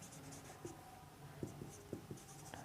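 Chalk or marker scratches on a board in a Class 6 maths lesson on large numbers, faint with short strokes and taps spread irregularly, and a quiet room with no talk.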